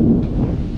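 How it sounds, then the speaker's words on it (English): A brief low rumble of thunder rolls through ahead of a rainstorm, loud and dull, fading slightly over its short span. "Yeah, thunder. That little lightning flash."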